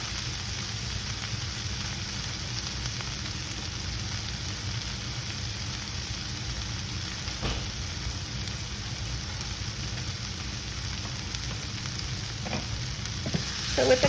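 Chicken and chopped garlic being stirred together in a hot pan, a continuous steady sizzle with faint scraping and stirring noises layered on top, close and fairly loud with no talking.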